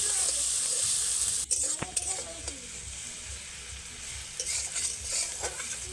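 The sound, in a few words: stirring and frying spice paste with onion and tomato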